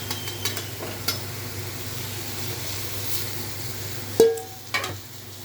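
Onions and tomatoes frying in a pan for a homemade curry, a low steady sizzle with a few sharp scraping clinks of stirring near the end.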